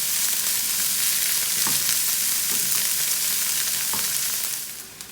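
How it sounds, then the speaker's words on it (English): Onions brown in a hot pan for a creamy vegan pumpkin soup, giving a loud, steady close-up sizzle and crackle with a few stirring scrapes, then fading near the end. "We're gonna brown these onions."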